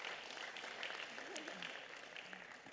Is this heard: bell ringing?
no